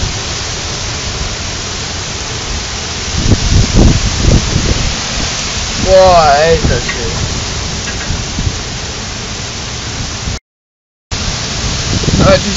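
Heavy thunderstorm in Düsseldorf/Mettmann with a steady roar of pouring rain and wind throughout, close and loud, while a person exclaims over it partway through; a brief dropout interrupts near the end.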